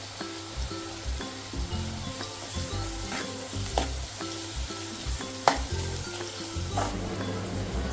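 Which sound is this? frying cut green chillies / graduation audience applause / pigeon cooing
frying cut green chillies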